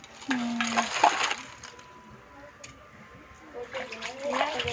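Seafood is washed by hand in water, with splashes and sloshing in short bursts at the start and end and quieter dripping between, while someone talks close by.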